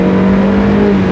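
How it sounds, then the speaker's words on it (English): A car engine with aftermarket OBX headers and exhaust revving hard, a loud, close, steady droning tone held for about a second. "So the headers do sound nice."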